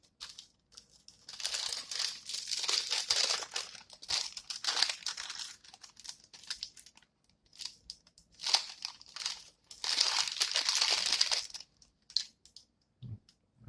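Tissue paper crumples and crinkles in several bursts as a G.I. Joe Classified Shipwreck figure is unboxed, close and quiet, with short pauses between handfuls and no talk.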